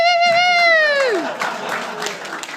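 A drawn-out, falling voice gives way to a moderate burst of audience applause at a men's reading group event, the clapping rising about a second in and continuing somewhat thinly to the end.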